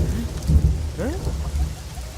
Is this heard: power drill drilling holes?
no